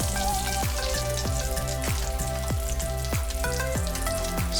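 Goan potato chops fry in oil over a medium flame, giving a steady, close crackling sizzle with a run of sharp pops and spits throughout, no voices.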